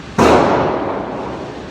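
A single loud, sharp shot from a Dan Wesson Valkyrie Commander 9mm pistol loaded with Federal HST hollow points, cracking out suddenly and then ringing into a long fading echo.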